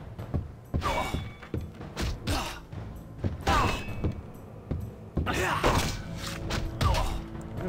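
Repeated heavy kicks land on an enemy in the first-person fantasy game Dark Messiah of Might and Magic, each a dull thud among clanks and combat noise, with voices talking over them.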